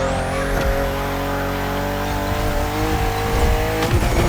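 A BMW 3.0 CSL in the racing game The Crew Motorfest holds a loud, steady engine drone at high revs, with a rising whine early on and brief tire scrubs, and no talking.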